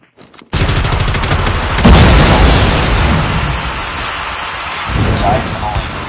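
Frag grenade exploding in Call of Duty Mobile: a sharp, loud blast that rolls straight into sustained, dense gunfire and battle noise, with game voice callouts underneath.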